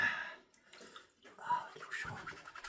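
Hot water runs and splashes over feet in a tub or basin, a soft, uneven wash of water with a person talking over it.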